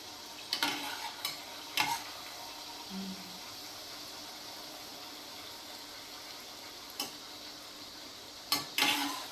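Luchi, Bengali puffed flatbread, fries in hot oil with a steady broadband sizzle throughout, broken by a few sharp scraping or clinking utensil hits near the start and end.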